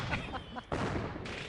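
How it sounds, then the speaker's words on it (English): Fireworks explode nearby, two loud, sharp broadband bangs with rolling crackle after each, while a voice can be heard faintly before the blasts. "No, the fireworks are too loud."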